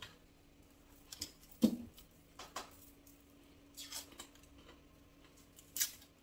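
A kitchen knife dicing an onion small on a cutting board, a handful of sparse, uneven taps and crisp cuts in a quiet room.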